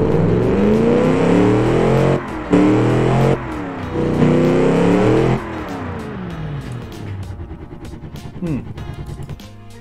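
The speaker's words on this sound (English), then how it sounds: "That's a nice sounding engine." A 1960s muscle car engine built in the game Automation revs hard in several loud, sustained bursts with falling pitch between pulls, then settles into a lumpy, rumbling idle with a final blip.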